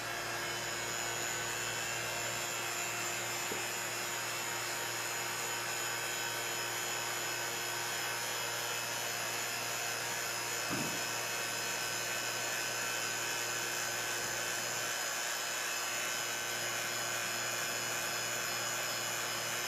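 A vacuum chamber pump runs in a steady, unbroken hiss and whine, loud and constant for the whole stretch with no talking.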